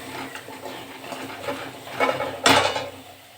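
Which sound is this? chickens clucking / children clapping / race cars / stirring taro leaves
stirring taro leaves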